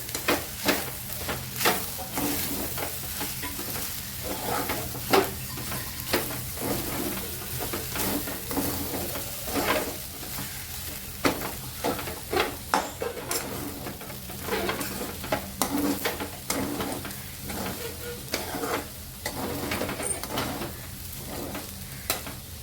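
Egg fried rice being stirred in a hot pan, heard as a steady, close sizzle broken by frequent scraping strokes of a spatula, repeating in an uneven rhythm throughout.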